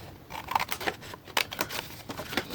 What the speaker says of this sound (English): So what we're going to do here, cut off your flaps.